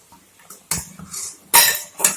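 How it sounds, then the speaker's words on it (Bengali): A spoon scrapes and clinks against a pan while thickening milk is stirred for sandesh, a few sharp metallic strokes spaced irregularly, close and fairly loud, with quiet gaps between. "যতক্ষণ না গাঢ় হয়ে আসে এইভাবে নাড়তে থাকতে লাগবে।"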